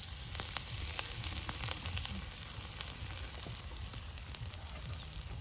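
Chopped onions fry in hot oil in a home kitchen, a steady close sizzle with crackling pops and occasional stirring scrapes throughout, no talk.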